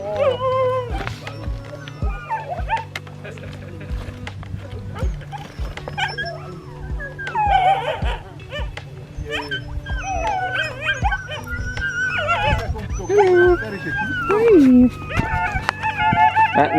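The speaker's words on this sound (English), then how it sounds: "And we got a few puppies coming to us." Sled dog puppies in the Arctic, at the Arctic Circle Trail, whimper, yip and give thin howls close by in a busy overlapping chorus, with people talking among them.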